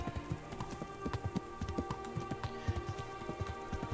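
Horse hooves clip-clop at a steady trotting rhythm in the medieval game Kingdom Come: Deliverance, close and distinct over a soft ambient bed.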